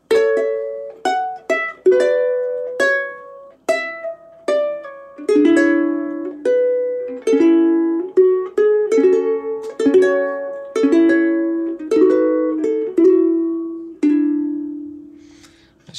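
A ukulele plucks the melody of Here Comes the Bride in clear, separate notes at a steady, stately pace, close and moderately loud, each note decaying quickly, with no voices.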